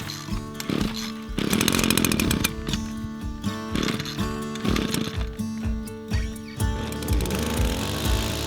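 In a garden, a two-stroke weed whacker revs up and down in repeated bursts, loud and close, with its engine pitch rising and falling.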